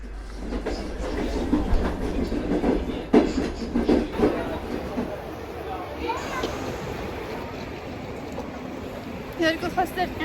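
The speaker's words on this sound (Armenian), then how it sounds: "Տանսերը վերցրեցինք իջանք ներքև ու տեսանք ոնց է մեր գնացքը գնում։" A train pulls through a station with a loud rolling rumble and rhythmic clickety-clack of wheels on rails, fading later in the passage while people talk nearby over the noise.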